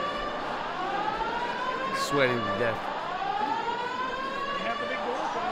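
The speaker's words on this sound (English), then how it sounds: "Smoke alarm's going off." A shrill electronic smoke alarm sounds continuously in a room while someone speaks briefly over it.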